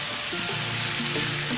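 Bitter gourd frying with whole green chillies while being stirred in the pan, a loud, close, continuous sizzle with scraping stir strokes and no talk.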